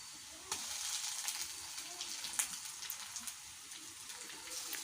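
Onion and ginger paste frying in a pan, a steady soft sizzle with light crackles and a few sharper pops, close and continuous with no talking.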